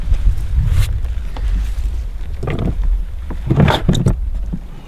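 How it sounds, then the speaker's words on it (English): A boat being paddled on open water outdoors, with intermittent splashy strokes and water swishes over a steady wind rumble, louder bursts around the middle and end. "Easy paddling."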